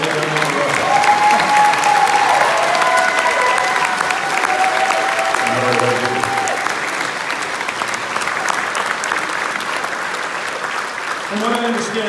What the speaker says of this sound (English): Just keep clapping because I'm going to keep clapping until I get everyone on the road.